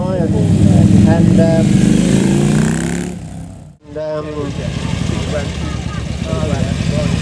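An Italian motorcycle engine runs loud and close at an Italian motorcycle day, drops out briefly, then runs again, with people talking over it.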